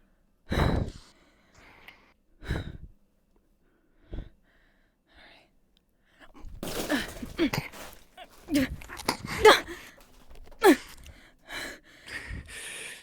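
Heavy breathing after sword fighting, with loud sighs and gasping breaths at first, then a cluster of rapid panting and snorts close to the microphone, with brief voices mixed in.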